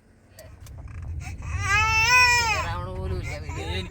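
A baby fusses and then breaks into a rising, wavering cry close to the microphone over a low background rumble.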